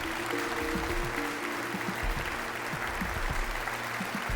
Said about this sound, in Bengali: একবার জোরে হাততালি হয়ে যাক।